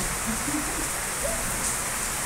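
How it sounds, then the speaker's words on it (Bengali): Heavy rain pours steadily in Bangalore, a dense, even hiss of water on surfaces that stays close and unbroken throughout, with no voices. "ফাইনালি এত জোরে আজকে বৃষ্টি হচ্ছে।"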